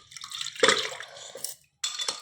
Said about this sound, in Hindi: चलो दाल लगी धो लेता हूँ